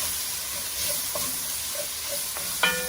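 Garlic and ginger sizzle in a pan over medium heat, a soft continuous frying hiss with a few light clinks near the end, no talking.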